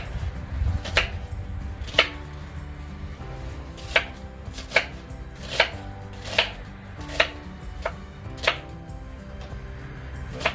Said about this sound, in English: So I'm just cutting these in half and laying the flat side down.